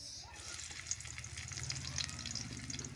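Onions go into a hot pan outdoors as the start of sautéed bitter gourd with scrambled eggs, sizzling steadily with stirring scrapes and a low rhythmic rumble beneath, close and moderately loud.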